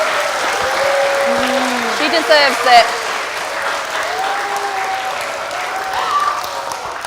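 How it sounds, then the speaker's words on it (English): A studio audience claps a big round of applause for a baker and author, a dense steady wash lasting several seconds while a voice speaks over it and tonal background sound runs underneath. "let's give Nadia a big round of applause"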